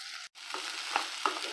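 Finely chopped agathi kai (sesbania pods) fry in a pan with tempered spices. A continuous sizzle breaks briefly near the start, and a couple of soft stirring scrapes sound over it.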